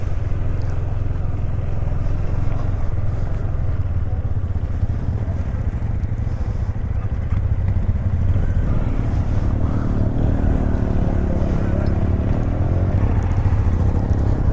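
A motorcycle engine and silencer exhaust roaring steadily and loudly on a rough road in Ladakh, with wind buffeting the microphone throughout and no talk.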